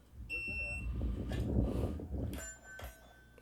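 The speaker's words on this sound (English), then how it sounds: "watch the split between when the timer goes off and when Johnny starts moving" A start timer beeps at the outset of a timed run while training in snow, a short high electronic tone repeating a few times over steady outdoor background rumble and some movement noise.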